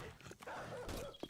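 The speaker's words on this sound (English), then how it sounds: "I wish I knew what kind of doggy that was." A dog in the zombie survival video game 7 Days To Die gives a few short whining barks and yips against a busy game soundscape.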